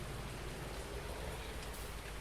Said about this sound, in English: And Harry, it looks like the rain's going to stop hopefully before it gets dark